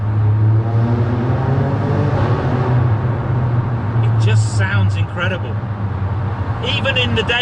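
A deep, throaty engine of a 2020 Alfa Romeo Stelvio Quadrifoglio sports SUV idles and burbles with rising revs, the exhaust rumbling close by while someone talks over it.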